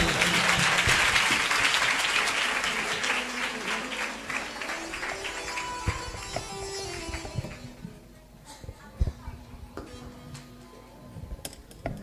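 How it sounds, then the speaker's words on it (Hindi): A church congregation at a Christian wedding claps loudly and steadily for several seconds, then the clapping thins out into scattered claps and a quieter room. "आइए यीशु के लिए ताली बजाइए"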